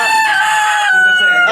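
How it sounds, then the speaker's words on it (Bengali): Two-month-old Brahma chickens call loudly and close by, one drawn-out, tonal crowing-like cry holding steady without any talking. "এই যে দেখেন মুরগি।"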